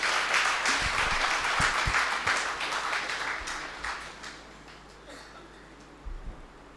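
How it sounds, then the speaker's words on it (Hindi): An audience at a spiritual retreat centre gives loud sustained applause that gradually fades, followed by a few scattered claps near the end. "ताली तो बजाएं आप ज़ोर से।"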